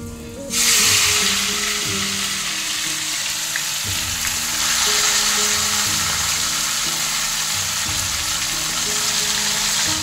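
Spice-marinated meat frying in a pan for a Bengali dish, a loud, steady sizzle and hiss that starts abruptly and runs unbroken, with faint stirring knocks underneath.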